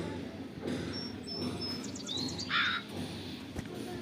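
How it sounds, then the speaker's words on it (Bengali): A cartoon crow calls in a few short, thin cries over a steady background of music or noise, with no talk in the clip. "কিন্তু অনেক চেষ্টা করছে কাক মিঠুর কাছ থেকে মানে চাবিটি নেওয়ার জন্য"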